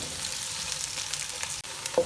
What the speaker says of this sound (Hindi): इसको थोड़ा सा फ्राई करेंगे ऑयल में ताकि ये सॉफ्ट हो जाए।